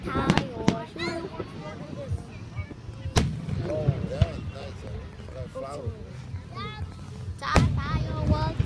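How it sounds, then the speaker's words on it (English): Small fireworks with big rockets going off outdoors: a few sharp booms and crackles scattered through the clip, with children and adults talking over a steady background murmur. "That's a little firework with big rockets."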